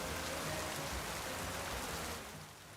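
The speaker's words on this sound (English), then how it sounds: "It's raining in my game." Steady rain in the Pokémon Legends: ZA video game, a dense hissing patter that stays even and fairly loud, easing slightly at the end.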